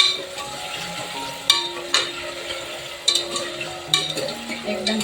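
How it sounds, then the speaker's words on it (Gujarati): Potatoes frying in oil for a Kathiyawadi guvar and potato curry, a steady soft sizzle with repeated sharp clinks and scrapes of a spoon stirring against the pan. "તો તેલમાં આપણે આ બટેકા તરવાના છે આને સારી રીતે આપણે ફ્રાય કરી લઈશું"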